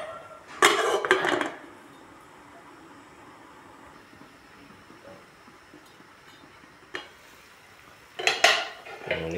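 A metal lid goes onto a cooking pot of tilapia soup with Malabar spinach and moringa, making brief clattering clanks at the start and again near the end, with quiet kitchen background between.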